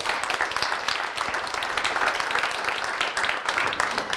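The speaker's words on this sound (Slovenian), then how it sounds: "dajmo še enkrat en velik aplavz za zaslužne" Audience applause for honoured professors at a formal student awards ceremony, a dense, steady patter of many hands clapping throughout, moderately loud with a faint murmur of voices underneath.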